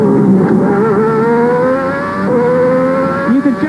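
Lamborghini V12 engine of a 1990 Lotus-Lamborghini 102 Formula One car heard onboard, a loud, steady high-rev howl around 13,000 rpm in second gear through a chicane, with brief pitch dips and a rough stutter near the end.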